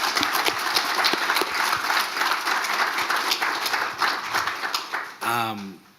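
Round of audience applause after an evening conversation, with steady, dense clapping at close range, then a voice speaking as the clapping ends.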